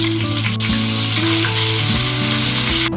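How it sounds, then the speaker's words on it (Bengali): Large freshwater prawns frying in hot mustard oil in a pan, a loud, steady, continuous sizzle with faint shifting crackles throughout and no voices. "চিংড়িগুলোর 2টো দিকই ভালো করে ভেজে নিচ্ছি।"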